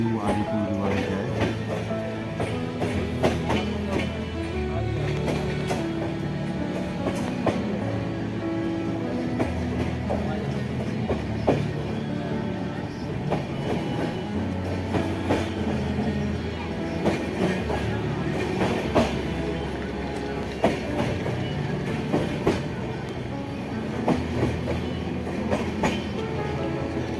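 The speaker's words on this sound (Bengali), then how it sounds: "আমরা রয়েছি কাঞ্চনকন্যা এক্সপ্রেস, যেটা শিয়ালদা থেকে ছেড়ে নিউ আলিপুরদুয়ারে যায়।" The Kanchan Kanya Express, a passenger train from Sealdah to New Alipurduar, rumbles continuously along the rails, with rhythmic clickety-clack from the wheels and occasional sharper clanks, heard from inside the coach over a sustained loud roar.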